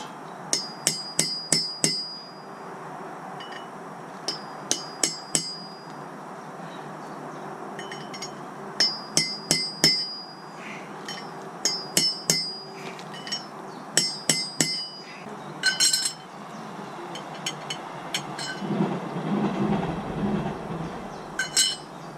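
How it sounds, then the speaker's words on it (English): Hammer gently tapping a bearing race into a trailer hub during a hub rebuild, producing clusters of quick metallic clinks in short rhythmic bursts with pauses between, close and clear, with no talk. "So now I'm just going to really gently go around and tap it in."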